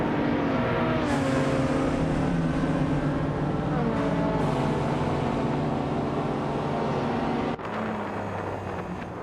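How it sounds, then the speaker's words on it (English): A 1983 Porsche 911 930 Turbo in a racing video game drones loudly and continuously, the engine note rising through gear changes, with a sudden shift near the end. "Panda Man 84 is driving a 1983 Porsche 911 930 Turbo"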